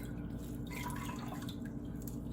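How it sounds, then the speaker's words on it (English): Water drips steadily as soaked lilac blossoms are squeezed out while making lilac syrup in a Vermont kitchen, a soft, close patter over a constant low hum, with no talking. "just gonna squeeze any remaining water out"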